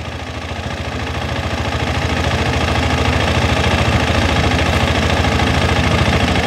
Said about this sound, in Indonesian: Nah, kita coba dengerin suara mesinnya kayak apa.